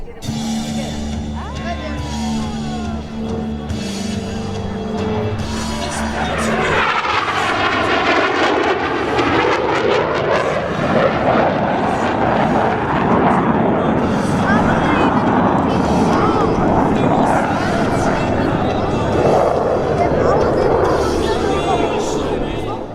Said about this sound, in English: this time to demonstrate the inverted flight capabilities of these FA-18s